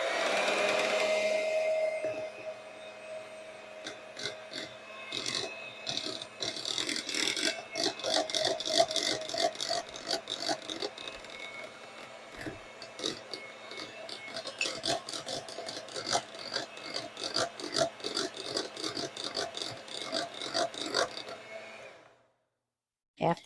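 Sweet potato pie filling being mixed with eggs, a long run of rapid rattling, scraping strokes in a bowl, close and fairly steady for about twenty seconds before stopping.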